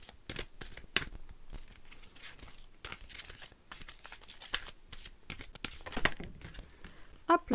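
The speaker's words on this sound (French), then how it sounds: "on va tirer une carte de l'oracle viking pour recentraliser un petit peu les énergies." Viking oracle cards are shuffled and one is drawn, a series of quick papery riffles, flicks and crisp card snaps, close and fairly quiet.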